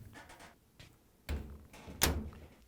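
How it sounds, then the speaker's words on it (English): A Hotpoint clothes dryer door is swung shut after a bearing retainer repair, giving a firm thunk with a second, louder latch slam a moment later, close and alone. "And now we can close the door."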